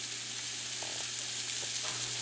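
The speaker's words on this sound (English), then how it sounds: "It should start sizzling in a second." Chopped bacon fries in a hot pan with a steady, hissing sizzle, close and even throughout with a few small pops.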